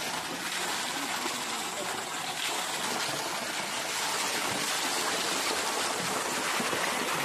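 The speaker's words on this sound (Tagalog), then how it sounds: "sa baba may ilog dyan" A river flowing past cottages at a scenic outdoor spot, a steady broadband rush of moving water continuing without a break, moderately loud and close.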